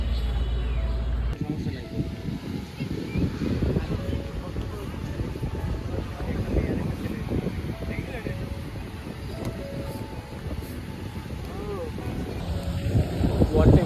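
Surf rolling onto the beach at Kuakata on the Bangladesh coast, a steady broad roar blended with heavy gusting wind buffeting the microphone, loud and continuous throughout.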